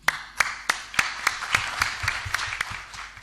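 An opening-ceremony audience at an academic conference in Beni Mellal, Morocco claps in a steady unison rhythm, about a dozen crisp, evenly spaced beats over a soft room murmur.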